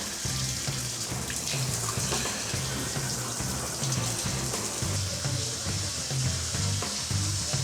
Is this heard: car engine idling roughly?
no